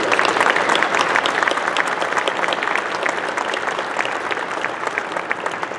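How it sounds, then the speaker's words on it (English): Sustained applause from a meeting audience thanking staff at an annual society meeting, a dense, steady patter of many hands clapping throughout without letting up. "Let's all have a round of applause for our staff at National."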